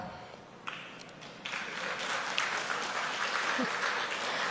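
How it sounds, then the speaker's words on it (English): An audience applauds and cheers during a speech in Paris, with scattered claps that build into sustained applause filling the hall. "First time I'm hearing people cheering for Pakistan."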